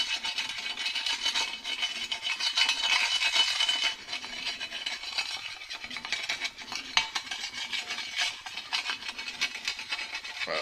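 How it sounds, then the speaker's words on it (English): Flat blade screwdriver stirring thick automotive grease loosened with degreaser, giving continuous close scraping and rubbing with wet, gritty texture throughout. "So we're just stirring it around."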